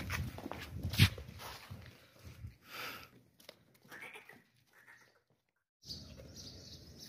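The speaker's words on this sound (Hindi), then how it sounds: "ये भी बकरा है और ये भी चलाक होशियार है, बहुत ही चलाक होशियार है माशाल्लाह से।" Goat at a livestock sale, giving a short bleat near the start amid shuffling hoof steps and rustling, then a silent gap before background noise resumes.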